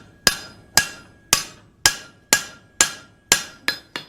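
A hammer strikes a 1/4 inch round mild steel pin to upset it at the forge, nine sharp ringing blows in a steady rhythm, close and loud, with the last two coming quicker.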